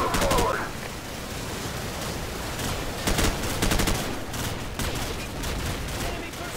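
Automatic gunfire rattles in Call of Duty 4: Modern Warfare during a combat mission, with dense bursts and scattered shots over continuous battle noise and shouting voices.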